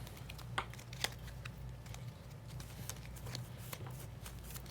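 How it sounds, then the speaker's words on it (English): A deck of Marvel Champions cards is shuffled on a tabletop, giving quiet riffling and soft slapping flicks in brief bursts over a faint low background hum. "I think we should shuffle this up."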